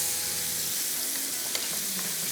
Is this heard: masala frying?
yes